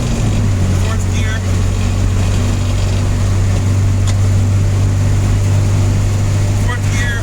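A 1986–1993 Mazda B Series pickup with Holley Sniper EFI cruises in fourth gear at about 3,000 RPM, its steady engine drone and road rumble loud and constant throughout, with faint cabin noises on top.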